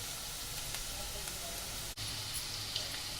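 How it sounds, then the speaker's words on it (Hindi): Onions fry in hot ghee until golden, giving a steady, even sizzle and hiss throughout, close and moderately loud, with faint talk in the background. "प्याज को गोल्डन फ्राई करेंगे।"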